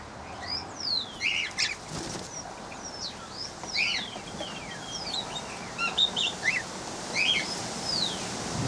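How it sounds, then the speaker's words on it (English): Cockatiels move about an outdoor aviary, with bursts of wing flapping and repeated high chirps and calls scattered across the scene. The birds sound fairly close, with no talking. "The thing you can't see while I'm videoing all this is cockatiels jumping around on my head."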